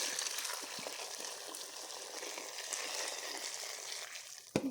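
Water goes into a cooking pot of tomato-based okra stew, followed by a steady broad hiss of sizzling and bubbling that fills the clip, ending with a short louder knock.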